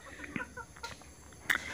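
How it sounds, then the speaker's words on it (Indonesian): Soft, scattered clucks from Bangkok-breed chickens about four months old nearby, a few short calls in quick succession with faint background noise. "Ini keturunan ayam Bangkok."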